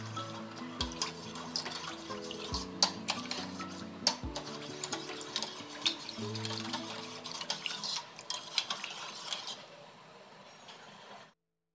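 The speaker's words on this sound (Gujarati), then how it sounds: "આ રીતે આપણે નીચે સતત એને હલાવતા રહીશું જેથી કરીને ખાંડ નીચે ચોંટી ના જાય" Sugar syrup made with hot water is stirred steadily in a pan, with a continuous scraping swirl and repeated clinks of the spoon against the metal for several seconds, then stopping abruptly near the end, with no voices.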